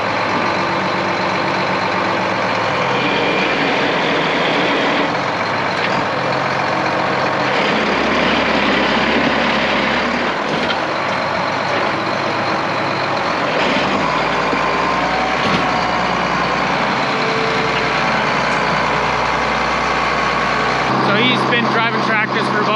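A tractor stuck in spring mud, one wheel braked so the other spins free, its loud heavy engine revving steadily throughout with shifting pitch and a brief rattling surge at the end, voices talking over it.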